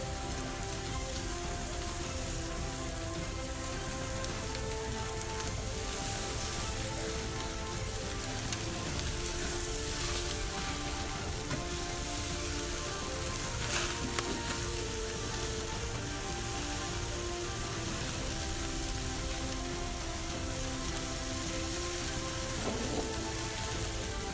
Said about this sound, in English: the shish kebabs to the hot side to get a sear